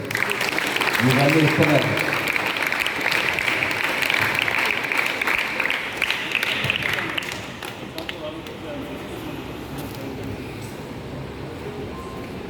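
Applause and clapping for a guest at a sports event held at a sports training centre, loud and steady for several seconds then fading, with voices talking over it.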